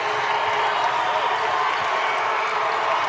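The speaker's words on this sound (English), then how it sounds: "Listen to the crowd here." A home crowd in Kingston celebrates Rhode Island women's basketball winning the A-10 regular season title, a dense, sustained wash of cheering and clapping that fills the arena without a break.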